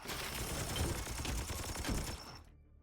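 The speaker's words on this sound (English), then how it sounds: "shoot twice with Thule" Gunfire from Warhammer 40,000: Chaos Gate – Daemonhunters, a dense fusillade of rapid shots from two attacks, loud and sustained for over two seconds before cutting off sharply into near silence.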